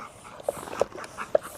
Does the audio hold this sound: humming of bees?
no